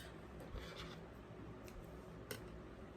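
Scissors snipping crochet braiding hair in half while making shoulder-length passion twists: a couple of soft, close snips over a steady low room hiss.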